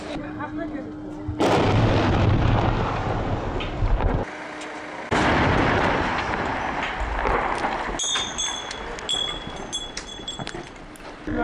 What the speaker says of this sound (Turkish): Bomba yüklü araç fünyeyle patlatıldı ama faciaya ramak kaldı.